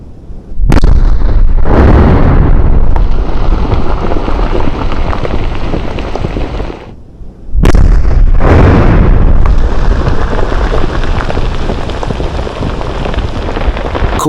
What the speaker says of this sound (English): There's going to be an explosion now.